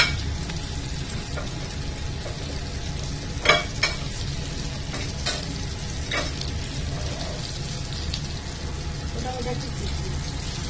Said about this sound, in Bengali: এটাকে এইভাবে ভেজে নেব, একটুখানি লালচে করে লালচে হবে।